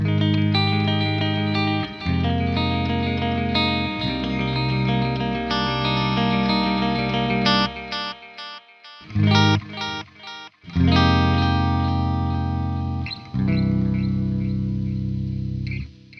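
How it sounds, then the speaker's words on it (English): An electric guitar plays ringing chords and notes in a clean, chiming tone, with echoing repeats trailing after each phrase, plus brief pauses between passages. "gives you some really nice chimey delay clean tones"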